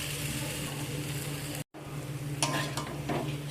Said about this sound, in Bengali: মশলা আর আলু ভালো করে আমি সবকে একসাথে কষিয়ে নিচ্ছি।